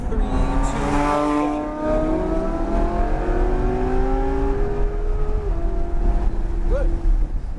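Lamborghini Huracán LP610-4 engine pulling hard on a track, revs climbing through several rising sweeps with gear changes, loud and close, one brief voice audible near the start.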